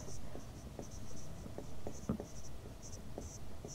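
Writing on a board while working a maths problem gives short, scratchy strokes in an uneven rhythm, close and fairly quiet against a soft background hiss.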